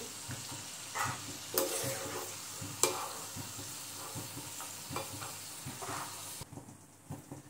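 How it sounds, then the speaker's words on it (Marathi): Cashews frying in oil in a pan for dadpe pohe, a soft continuous sizzle with occasional stirring knocks and scrapes, close but quiet, cutting off near the end, no speech. "त्यामध्येच आपण 10-12 काजू तळून घेऊया"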